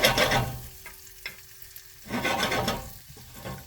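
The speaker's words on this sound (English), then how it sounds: "I'm just making a nice butter sauce with these green onions and sauteed morels." Green onions and morel mushrooms sauté in butter over low heat: a soft crackling sizzle broken by stirring scrapes and a brief clink, swelling again near the end.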